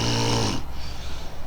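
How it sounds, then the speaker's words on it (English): A woman snores loudly in a single close, rasping breath that drones for about half a second and then fades into quiet breathing noise. "No, she just snores that loud."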